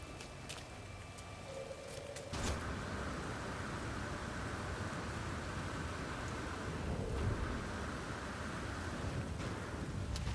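A storm in the video game No Man's Sky: a steady roar of wind and rain that swells in abruptly after a quieter start and then holds as a dense, even wash, fairly faint overall.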